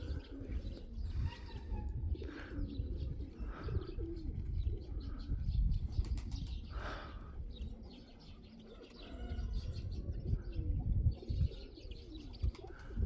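Pigeons coo repeatedly at close range, with scattered chirps and a few soft rustles that could be wings, over steady low outdoor background noise.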